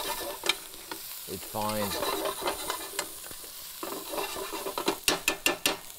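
Lobster shells or stock base sautéing in a pan, with stirring and sharp clinks of a utensil against the pan, plus a brief spoken remark and a low humming tone partway through.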